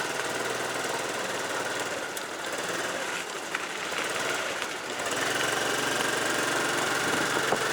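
A motorcycle engine runs steadily in second gear at low speed, a close, even thrum with slight pulsing and no real revving, heard alone without talk.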